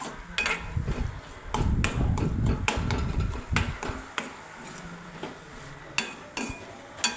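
A spoon scrapes and clinks against a pan while an egg dish is stirred, making a burst of dense metallic knocks followed by sparser taps and a light sizzle underneath.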